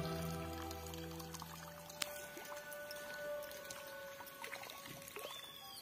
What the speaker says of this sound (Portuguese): Água vindo lá do alto também, ó. Vindo por gravidade.